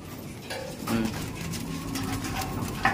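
Pet birds, including pigeons or doves, feed outdoors, with soft cooing and scattered bird sounds over light background noise.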